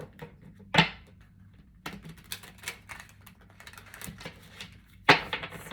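Tarot cards being shuffled by hand: two sharp riffling bursts stand out against soft, scattered card taps and rustles, quiet and close with no talking.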